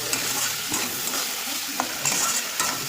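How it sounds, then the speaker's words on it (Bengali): Turmeric and ground cumin masala sautéing in a pan, a steady close sizzle with scraping stirring strokes and occasional louder clinks, no talking. "এটা কষিয়ে নিচ্ছি"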